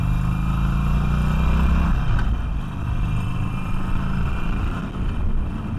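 Harley Davidson Iron 883 motorcycle accelerating in second gear, a loud, near engine roar whose low pitch climbs and then settles into a steady rumble with wind noise.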